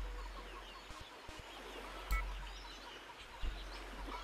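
A chicken in a video game clucks faintly in short scattered bursts over a quiet background, with a couple of brief louder thumps.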